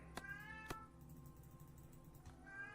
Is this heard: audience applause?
no